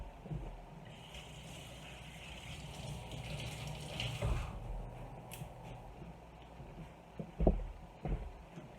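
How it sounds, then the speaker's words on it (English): Hands are washed under a running kitchen tap, a faint steady water rush with soft splashes and a few louder knocks and clatters near the end, no talking. "Let me wash my hands."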